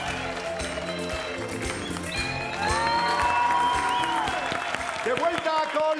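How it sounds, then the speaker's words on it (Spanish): Applause from a TV gala audience, clapping mixed with music and a presenter's voice, building slightly toward the end. "¡Un aplauso para nuestras chicas,"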